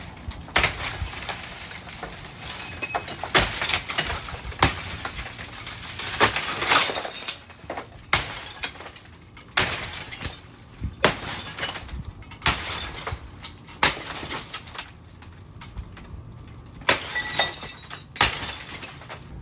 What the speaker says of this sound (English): the tempered glass pieces were too big for just the two of us to handle, so we threw it down here, broke it up